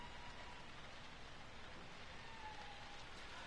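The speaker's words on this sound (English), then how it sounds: "Zoom in outside. It's raining," Soft, steady patter of rain falling outside a house in the horror game P.T. (Silent Hills), a faint even hiss of drops with no talking over it.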